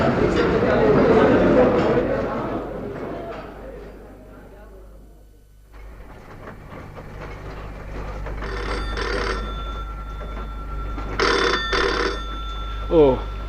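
A telephone rings in two clear bursts of bell-like trilling after a stretch of speech, fairly close and loud.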